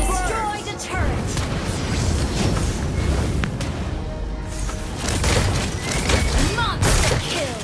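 Valir's Lava Burst fire skill in a solo ranked video game match: a loud, dense barrage of fiery blasts and booming bursts rolls on almost without pause, with sharper impacts piled on top.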